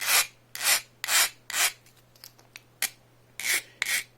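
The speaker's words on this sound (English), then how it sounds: "take a file and just round those off before you go any further" A metal hand file rasps the cut edges of a handmade bow-saw blade, in about eight short, sharp strokes in an uneven rhythm with brief pauses between them, close and clear.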